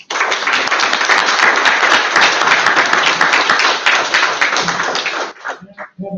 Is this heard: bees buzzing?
no